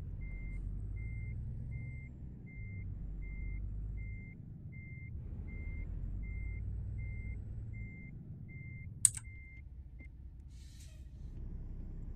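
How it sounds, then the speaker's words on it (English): A truck's reversing beeper in American Truck Simulator, a steady series of evenly spaced beeps over a low engine rumble, ending with a sharp hiss of the air brake. "I'm so sorry for the backup beeper."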